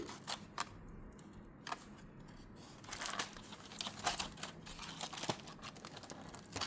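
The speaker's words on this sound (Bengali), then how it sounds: "এই যে খুললাম আপনাদের সামনে বিরিয়ানির প্যাকেট" A biryani packet is opened at a table, with soft crinkling and tearing of packaging rising into a busier run of rustles and taps, quiet and close.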